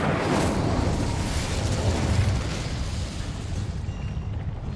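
An Incendio fire spell cast in Hogwarts Legacy, heard as a loud, sustained roaring whoosh of flame that stays close and dense for several seconds before easing slightly at the end.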